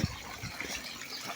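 Water gushing steadily through a channel beside a small bridge at a hilltop temple site, a continuous broadband rush close by with no other sounds.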